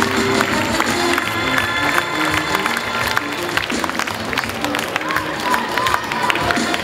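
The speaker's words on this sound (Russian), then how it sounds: "Аплодисменты участникам этого финала." An audience at a dance competition applauds and cheers the finalists, a dense sustained roar of clapping and crowd noise with a voice speaking over it.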